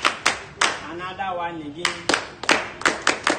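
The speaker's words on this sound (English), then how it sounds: "Let's clap for ourselves." A group of students clapping together in a college of education classroom, with sharp bursts at the start, a short pause while someone speaks, then a run of quick, rhythmic claps close by.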